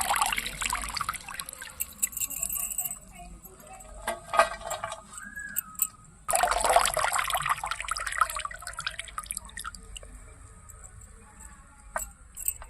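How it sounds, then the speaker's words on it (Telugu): Water is poured while leafy greens are rubbed and washed by hand, giving close, intermittent trickles, drips and splashes between quieter moments. "నీళ్ళు ఇట్లు పోసుకొని ఎక్కువ చేతులతో ఇట్లు పులుముకుంటే కన్నీ పోతుంది"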